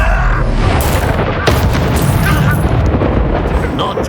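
A Bombarda spell in Hogwarts Legacy sets off a loud, rumbling explosion blast that fills the whole moment, with game voices and effects layered on top.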